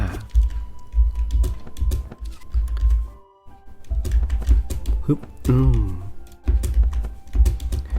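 Computer keyboard keys tapped in quick uneven bursts close by while someone talks over the clicking, with a brief quiet gap midway.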